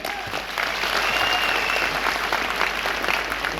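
An audience in a railway auditorium breaks into steady, full applause for a speaker, a dense roomful of clapping that swells after a brief quieter start and holds for a few seconds.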